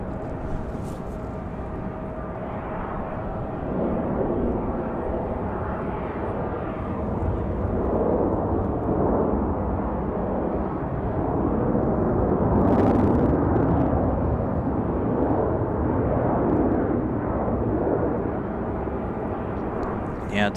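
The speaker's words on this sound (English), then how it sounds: "So this one right here looks to be American Airlines. 1904 coming in from Charlotte. This one is 737-800 tonight." An American Airlines Boeing 737-800 lands at Raleigh-Durham airport at night, its broad engine roar steady and moderately loud for the whole stretch, swelling slightly midway.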